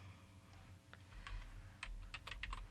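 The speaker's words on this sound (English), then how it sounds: "if I know what I want, I can just type it in" Keys clack on a computer keyboard as a font name is typed in, a short run of quick, light taps close by in a quiet room.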